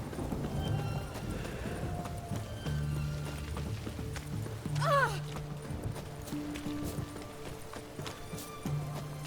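Roach the horse in The Witcher 3 clip-clops along in an even walking rhythm, close by, with one short whinny in the middle, while someone talks over parts of it.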